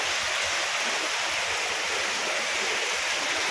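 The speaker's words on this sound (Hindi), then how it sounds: "अचानक इतनी स्पीड बारिश आई" Sudden heavy rain pours down in a steady, dense hiss that fills the whole clip, loud and unbroken, with no voices.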